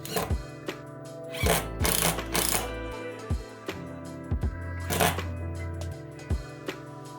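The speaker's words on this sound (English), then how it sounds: "we'll attach the base to the wall using the left hand screw hole" A roller cassette blind cord tidy base is screwed to a wall, giving close, irregular clicks, scrapes and handling knocks with a few brief, louder bursts of screwing effort, no talk.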